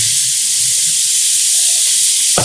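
Tomato paste hits a hot pan of cauliflower curry with a loud, steady, close sizzle and hiss that fills the whole stretch, ending with a brief clatter.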